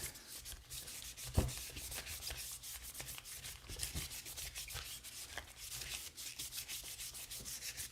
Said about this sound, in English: So this sandpaper just kind of slides all the way around.